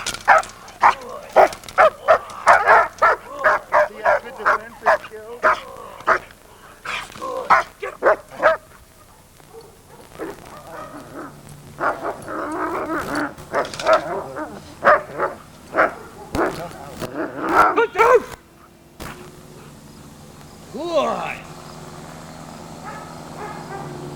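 A Giant Schnauzer barks in loud, repeated bursts, some quick and some spaced apart, with whimpers and yips between them and brief pauses.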